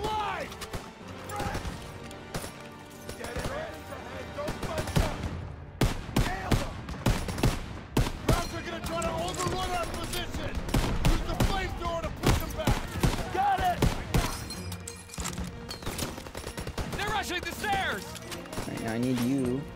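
Sustained suppressive gunfire from the Call of Duty: WWII video game pounds in repeated sharp rifle and machine-gun bursts across a chaotic battle, with soldiers shouting over the continuous volleys.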